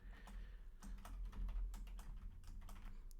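Fingers tap out a password on a computer keyboard, a quick, close run of light clicking keystrokes over about three seconds, with no voices.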